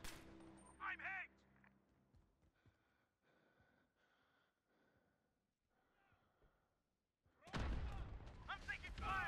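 Call of Duty Modern Warfare gunfire in a 2v2 alpha match, a short burst near the start followed by quieter game noise, then a loud, dense stretch of shots and effects at the end, with voices mixed in.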